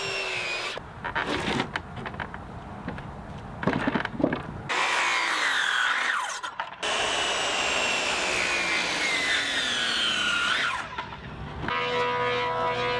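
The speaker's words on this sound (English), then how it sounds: "I'm going to start with my circular saw just because it's a lot easier to manage." A circular saw cuts lumber boards, its whining blade running loud and close in several long passes broken by short pauses, with wood-cutting rasp through each pass.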